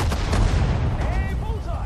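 Tank grenade blast from the World War II strategy game Sudden Strike 4, a dense, continuous wash of battle noise with booming low rumble, gunfire and faint whistling tones over two seconds, with talk mixed in.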